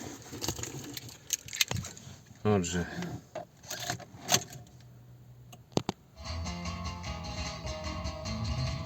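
Two car keys jangle and rattle briefly near the start, close and fairly soft, mixed with rubbing and scraping, under a few spoken words and the background hum of a 2011 VW Golf 6 1.6 diesel engine.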